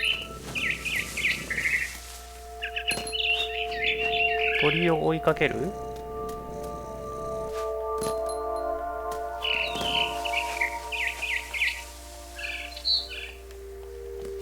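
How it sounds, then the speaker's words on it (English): A barn swallow in a video game chirps and twitters near her nest in a strange house, bright repeated bird calls in bursts over a steady hum and soft game music, with a person speaking Japanese at moments. "It was a barn swallow going back to her nest."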